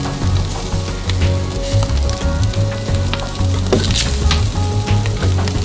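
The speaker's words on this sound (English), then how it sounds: "go ahead and put some bacon on the grill as well" Bacon laid over burgers on a BBQ grill sizzles and crackles steadily and up close, a dense frying hiss with scattered pops and no talking.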